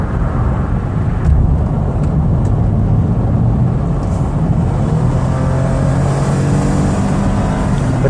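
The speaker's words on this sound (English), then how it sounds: "I always like to take the vans on a test drive. I get them out on the highway." A van cruising on a highway during a test drive, heard from inside as a loud, steady engine drone and road rumble that barely changes, with no talking.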